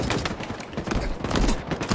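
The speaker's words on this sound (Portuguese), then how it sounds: "Ô, levei um tiro de sniper, hein?" Rapid gunfire in the multiplayer shooter Halo Infinite, a dense, continuous clatter of shots and impacts with no pauses, fairly loud throughout, with no talking.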